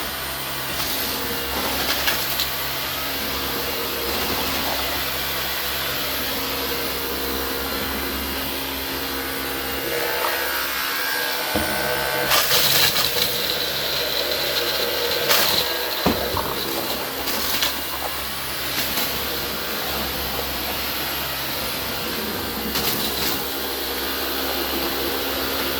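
A Dyson V15 Detect cordless vacuum with a laser fluffy roller head runs on a hardwood floor, giving a continuous loud high-pitched motor whine with intermittent rattling clicks as debris is picked up.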